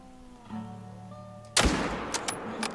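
A single rifle gunshot fired at a wild boar during a driven hunt in the video game The Hunter cracks loudly after a quiet stretch, followed by a short decaying echo and a couple of fainter thumps.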